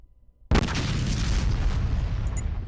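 A single loud gunshot in the Fallout Tactics video game, a sudden heavy boom followed by a sustained rumbling tail that lasts about two seconds.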